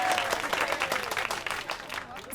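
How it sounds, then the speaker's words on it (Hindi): A crowd bursts into steady applause, many hands clapping densely and loudly, a brief cheering ovation at a free biryani handout. "तालियां"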